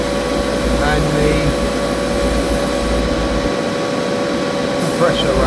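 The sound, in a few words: compressor running with exhaust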